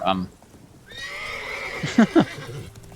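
Roach, the horse in The Witcher 3, lets out a loud whinny with a clear descending tremolo, followed by a couple of snorts and hoof clops in the game.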